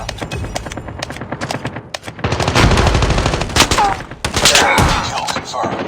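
Gunfire from a shotgun in a shooter video game, loud rapid blasts in dense clusters with short gaps, overlapping with game effects.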